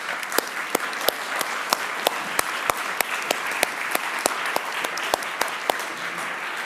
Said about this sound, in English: giving the symposiasts and Professor Achille a round of applause